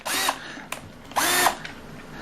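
A Black & Decker lithium battery cordless drill whirs in two short bursts with a brief pause between, near and fairly loud.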